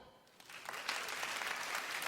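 A comedy gala audience in a large hall breaks into applause that swells quickly from scattered claps into steady, dense clapping at a moderate distance.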